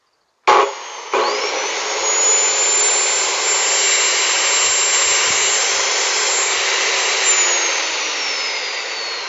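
A high-speed cut-off saw with an abrasive cutting wheel slices square steel tube: the motor kicks on abruptly, then a sustained loud, high grinding whine runs steadily throughout, fading slightly near the end.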